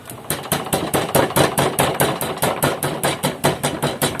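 A small hammer taps steadily on the ignition coil of a TRAP TRF 400 motorcycle engine, sharp metallic knocks repeating evenly at about four per second, close and loud with no talk.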